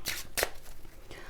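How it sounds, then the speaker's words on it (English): Tarot cards being shuffled by hand, two quick crisp riffling bursts close to the listener, then a softer rustle, with quiet breathing between. "now I feel like I got to shuffle"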